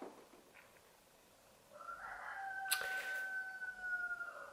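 A neighbours' rooster crows once in springtime outdoors, a drawn-out, faint call from some distance that swells and holds for a couple of seconds over quiet background hiss.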